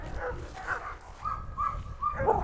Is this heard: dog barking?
yes